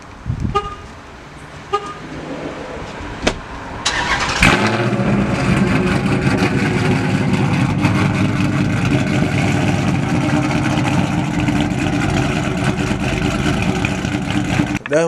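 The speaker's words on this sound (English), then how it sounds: "I'm gonna give y'all a warm start of the car so y'all can hear the exhaust" Car warm start with a newly fitted muffler exhaust: a few brief clicks and a short horn toot, then the engine catches and settles into a loud, steady idle burble that runs to the end, close up with no talk.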